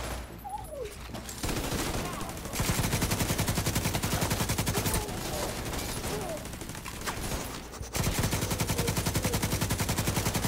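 Sustained, dense automatic gunfire in The Division 2 video game, loud and continuous with rapid repeating shots, swelling into heavier bursts, with voices talking underneath.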